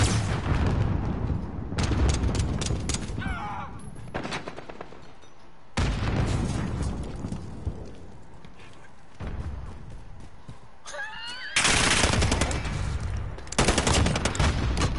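A thrown grenade explodes amid heavy gunfire in a shooter video game, with loud repeated bursts of rapid shots and booms filling the scene, separated by short gaps.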